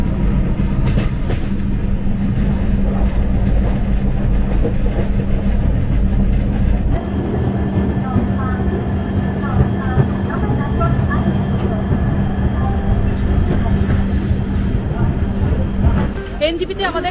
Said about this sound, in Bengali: এনজিপিতে আমাদের ট্রেন ঢুকলো